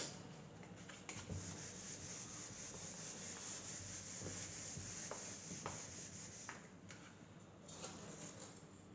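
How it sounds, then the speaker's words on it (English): A board eraser rubs writing off a classroom board in steady back-and-forth scrubbing strokes, close and fairly quiet, with no talking. "So I'm rubbing off everything except these 3 equations."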